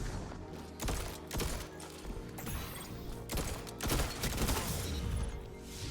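Gunfire in a first-person shooter video game: bursts of sharp, rapid shots and mechanical weapon clatter, loud and continuous without voices.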